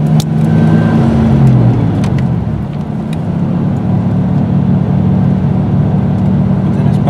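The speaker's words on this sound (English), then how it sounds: "That fan clutch is cycling." A 3.9L V6 in a 1996 Dodge Dakota runs loud and steady up close, its low engine drone and whirring fan clutch cycling with a slight dip in the middle.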